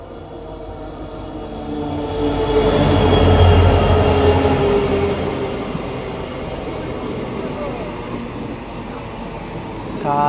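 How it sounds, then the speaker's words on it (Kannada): The Kuvempu Express pulls into Anandapura station, a rolling rumble of wheels and carriages that swells to a loud peak mid-way, then eases off, with a faint squeal near the end. "ಈಗ ಬಂತು ನೋಡ್ರಿ ಕುವೆಂಪು ಎಕ್ಸ್ಪ್ರೆಸ್ ಆನಂದಪುರಕ್ಕೆ"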